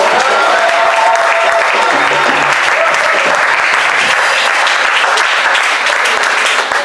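A church congregation at a thanksgiving service bursts into loud, sustained applause and cheering for Jesus, a dense roar of clapping that fills the room without pause.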